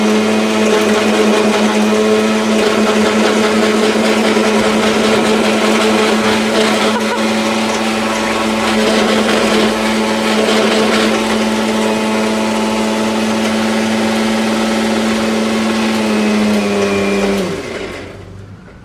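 A mixer grinder whirs loudly and steadily while grinding biryani masala, a close motor drone with rattling blades that winds down abruptly near the end.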